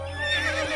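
A cartoon wild horse, a brumby, lets out a loud, close neigh that rises and wavers briefly before cutting off.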